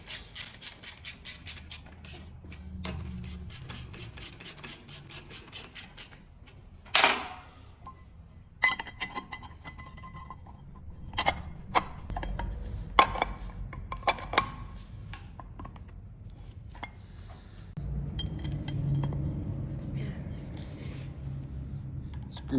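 Metal bolts being tightened on a spline shaft motor, with irregular ratcheting clicks, scrapes and sharp clanks of tools and hardware at close range and no talking.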